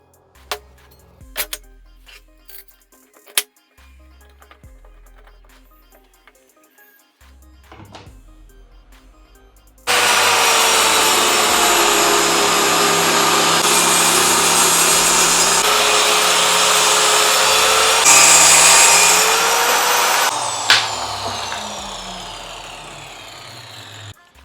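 ENON 2-in-1 multipurpose cutter used as a circular saw on wood, whining up to speed after a few clicks and cutting steadily and loudly for about ten seconds before winding down.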